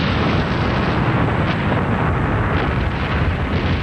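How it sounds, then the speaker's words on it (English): A volcanic mountain eruption sound effect from a TV game show: a loud, continuous, dense roaring rumble that stays steady for several seconds, with no voices. "mountain has sensed your presence and is about to erupt"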